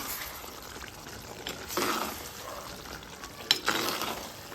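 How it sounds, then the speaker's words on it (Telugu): Kasuri methi being stirred into a simmering chammakaya curry, soft sizzling under a few scraping spoon strokes and a couple of sharper clinks against the pan. "వేసి అంతా ఇట్లా కలిపేసుకోవాలి"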